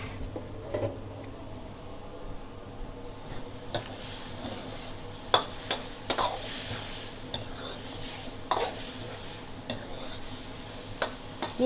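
Batter dropped into a hot frying pan gives a soft, quiet sizzle under a string of light clicks and scrapes of utensils against the pan, spaced irregularly across the clip, with no talking.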